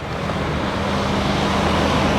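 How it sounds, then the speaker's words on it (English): A truck approaching on a dusty road along the Victoria Lines in Malta gives a steady, broad engine and tyre rumble that builds slightly as it draws near. "There's a truck coming up."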